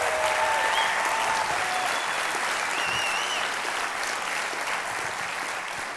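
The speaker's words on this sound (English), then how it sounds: "One more round of applause for our extraordinary finalists." Sustained audience applause for the finalists at a Fast Pitch event, dense even clapping from a large crowd with a few faint whistles, steady and close throughout.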